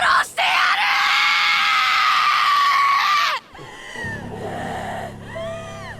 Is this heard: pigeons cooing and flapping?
no